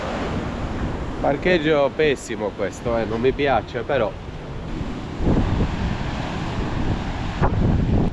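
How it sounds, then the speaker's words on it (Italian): Blustery coastal wind at a Santa Cruz parking area buffets the microphone with a steady, loud rumbling roar that swells into stronger gusts in the second half, while someone speaks briefly over it near the start. "Oggi è ventoso."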